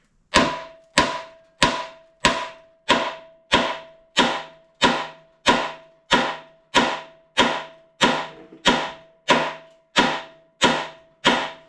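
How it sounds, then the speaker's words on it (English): A hammer strikes a Chevrolet Nova Camaro subframe part about sixteen times at a steady, even pace. Each blow lands loud and close with a sharp metallic ring that decays before the next hit. "I think I'm going to throw some hearing protection on and just hammer on that"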